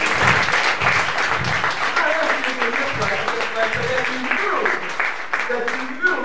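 A church congregation claps along during a sermon while voices continue over the clapping.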